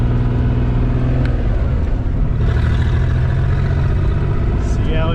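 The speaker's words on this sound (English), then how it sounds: "we're going to take it for a little test drive on this back road here." Ford Bronco II on a back-road test drive while it still has a fuel line fault, its engine droning loud and steady from inside the cab, with a person talking over it.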